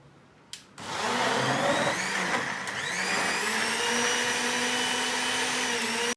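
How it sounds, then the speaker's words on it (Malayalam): A blender whirs up java apple (chambakka) juice with milk and sugar: a click, then a loud, steady motor drone that runs close and alone for about five seconds before cutting off abruptly. "നമുക്കിനി ഇത് നന്നായി ഒന്ന് അടിച്ചെടുക്കാം."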